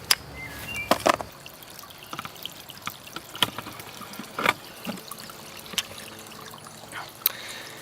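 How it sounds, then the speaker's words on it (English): A tiny backyard spring trickling over a property, steady soft water babble with scattered small splashes and drips, close and alone with no voices. "So that is our teeny tiny little spring."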